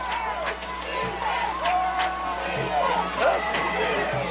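High school football crowd at a 1995 game, London vs Northeastern, a broad murmur of cheering and chatter with occasional whoops, under a commentator's voice.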